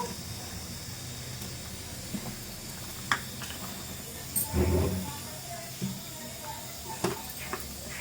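Tamarind stew (pulusu) with onion pieces simmering in a pot, a steady faint hiss and bubble with occasional soft pops and a brief louder sputter, close by.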